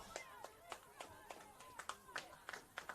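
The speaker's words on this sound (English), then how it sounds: "Crowd appreciative of the efforts there." Crowd claps and cheers at a women's soccer match between Essendon Royals and Alamein, with scattered sharp claps repeating over crowd murmur and a commentator talking throughout.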